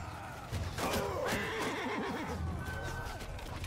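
Horses of mounted horse archers in the battle game Bannerlord neighing and whinnying loudly amid battlefield din, with galloping hoof clip-clop, in a dense, busy mix.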